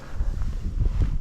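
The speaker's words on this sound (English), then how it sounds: "Oh, we're getting a lot of cloud cover. The wind is picking up." Wind gusts rumble and buffet across an open microphone on the water while fishing off 19th Street in Boca Grande, a low, steady roar with no talking.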